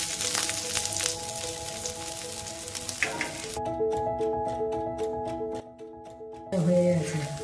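Moong dal chilla sizzles in ghee in a pan, a steady close frying hiss that briefly drops away before crackling up loudly again.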